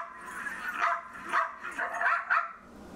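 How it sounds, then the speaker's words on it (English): A dog barks and yips several times in quick, uneven succession, moderately close, with slight whimpering between the barks. "the interface changes when it hears a dog barking"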